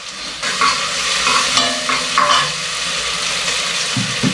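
Onion and capsicum tadka sizzling in a pan, a steady loud frying hiss with occasional stirring scrapes throughout, no voices.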